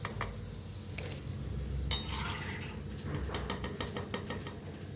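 Dried coconut being fried in a pan for a spicy chivda snack, with a steady close sizzle under repeated metal stirring scrapes and clinks against the pan, no voices.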